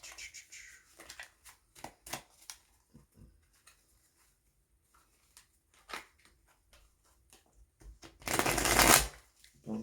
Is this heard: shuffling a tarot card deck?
yes